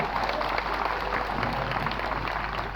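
Audience at a village commemoration and cultural festival clapping together, a steady, fairly faint wash of applause with no clear pauses.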